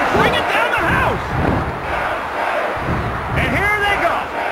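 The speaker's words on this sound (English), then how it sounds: "Man, this crowd is all pumped up." A wrestling arena crowd in the WWF Attitude video game roars and cheers loudly and continuously, with swelling yells rising near the start and again toward the end.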